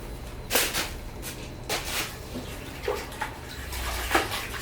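Water splashing and running as a water lily rhizome with roots is washed, in short irregular bursts with quieter gaps between them.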